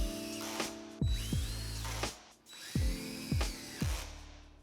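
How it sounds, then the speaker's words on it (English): A drill press bores pilot holes into wooden slats for an outdoor chaise lounge, sounding as a series of short, sharp drilling bursts with brief spin-ups and pauses between holes. "I could pre-drill the upper slats with an updated stop at the drill press."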